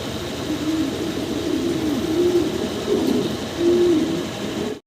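Fancy pigeons cooing in a loft, repeated low throaty coos in slow phrases over a steady background hum, fairly close.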